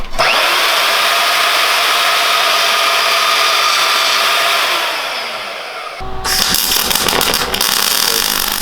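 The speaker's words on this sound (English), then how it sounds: "Now the engine's on." A CR80 shifter kart engine runs steadily with a loud, high buzzing drone, its pitch easing down near the end before an abrupt, rougher burst of revving.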